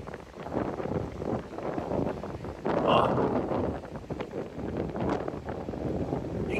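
Mild wind on Gran Canaria buffeting the microphone, a rushing, gusty roar that swells and eases, with a louder gust midway and no clear talk.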